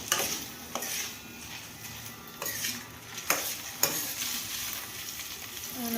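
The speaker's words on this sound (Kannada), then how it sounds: "ತುಪ್ಪದಲ್ಲೇ ನಾನು ಪನ್ನೀರ್ನ ಫ್ರೈ ಮಾಡ್ತಾ ಇದ್ದೀನಿ." Cubes of paneer fry in ghee with a soft, continuous sizzle, broken by several sharp scrapes and taps as a utensil stirs them around the pan.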